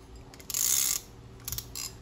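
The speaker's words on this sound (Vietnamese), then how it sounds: "đây là tiếng lưỡi gà của máy nhé" Olympic fishing reel with its anti-reverse ratchet engaged, giving two short bursts of fast, close metallic clicking against a quiet background.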